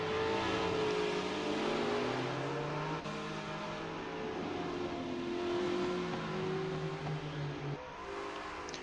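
BMW and XC Falcon race cars in a video game race at Oran Park: several engines drone and rev together, pitches rising and falling through gear changes, a steady mid-distance pack sound with one engine cutting back near the end.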